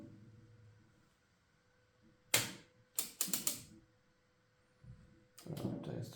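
Paper winding into a worn Stoewer Elite manual typewriter, its pressure rollers fed by turning the platen: close, crisp ratcheting clicks come in a quick cluster, then a second rougher burst follows after a brief quiet pause.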